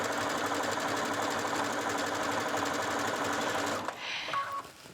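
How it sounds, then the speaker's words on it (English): A sewing machine stitches a circle skirt seam all the way around, with a steady, fast mechanical whirr running for about four seconds before it stops and a few faint handling sounds follow. "So we're just gonna stitch that up. You're gonna stitch it all the way around."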